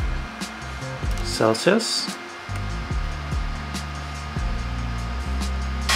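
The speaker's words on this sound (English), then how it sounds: "You can hear both turbines are working and they're quite loud." Two turbine-style TEC cooling fans on a 10 watt laser whir loudly and steadily at close range, with someone speaking briefly over the constant blowing noise.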